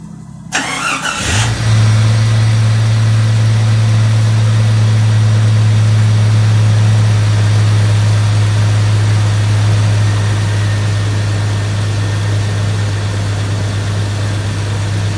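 A 1999 Jeep Cherokee with a swapped engine fires up on its first start with an oily cylinder, catching after a brief crank and settling into a loud, steady idle that runs without talk throughout.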